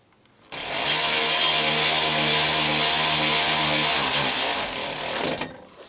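A power tool tightening bolts on the AC condenser of a 2004-2009 Toyota Prius, one loud continuous whine lasting about five seconds that starts and stops abruptly.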